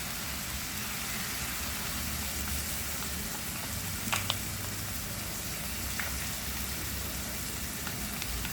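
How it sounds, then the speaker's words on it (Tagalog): Coconut milk poured into a pan of pork binagoongan sets off a steady, soft sizzle and bubbling simmer, with a couple of faint utensil clicks near the middle. "Ilagay natin itong gata"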